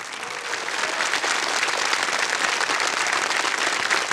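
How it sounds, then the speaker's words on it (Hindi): Studio audience on the KBC (Kaun Banega Crorepati) Season 16 game show breaks into sustained, dense applause that swells within the first half second and holds steady and loud throughout, with no speech over it. "तालियां बज जाए इनके लिए।"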